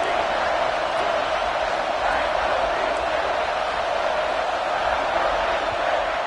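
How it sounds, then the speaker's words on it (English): Loud, steady crowd roar from a home football stadium crowd, filling the space continuously without breaks, dense and close like a deafening din in the stands. "Man, this crowd really affecting the football game."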